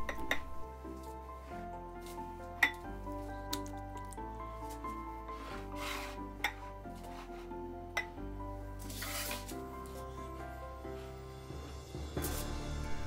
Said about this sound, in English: We continue mixing them until all the chops are coated with mayonnaise.